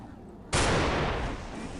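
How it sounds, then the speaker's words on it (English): A battleship's cannon fires in a video game, a single loud, sudden boom that cuts through quiet ambience and then rumbles on, decaying slowly over more than a second. "He chartered an entire bloody battleship, complete with cannons that are usable."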